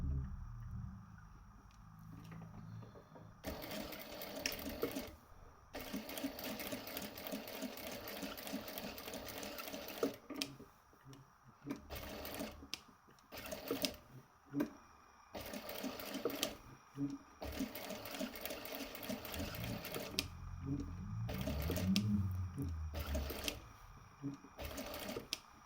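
A sewing machine stitches around the outside of an unlined patch pocket, its rapid mechanical whirring close and clear, running in bursts of several seconds that are separated by short pauses and faint handling clicks.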